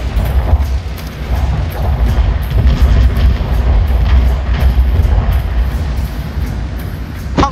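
Continuous heavy rumble of rapid booming explosions from a multi-shot artillery barrage in Total War: Shogun 2, dense and loud, with overlapping low blasts rolling on without pause.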